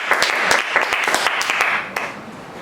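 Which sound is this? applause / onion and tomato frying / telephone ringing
applause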